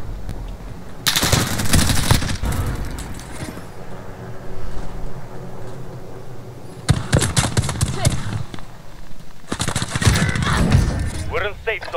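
Loud, close bursts of automatic gunfire in a battle royale shooter, a long volley followed by two more separate bursts. Quieter game noise fills the gaps, and a player talks throughout.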